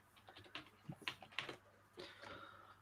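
Typing on a computer keyboard, close and fairly quiet: a run of irregular clicky keystrokes in short bursts, then a brief denser flurry near the end over a faint steady hum.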